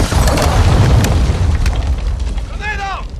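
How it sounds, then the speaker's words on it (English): A cruise missile explosion in Call of Duty: Modern Warfare II multiplayer, a loud, deep boom that rumbles and decays over a few seconds before a brief voice is heard. "Hostiles launched a cruise missile."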